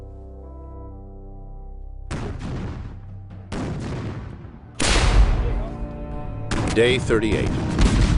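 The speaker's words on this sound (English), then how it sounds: "and increases the cannon barrage." A voice speaks briefly, then heavy booming blasts of cannon artillery fire erupt in repeated loud bursts, layered with crackling and rumbling, in a Revolutionary War battle scene.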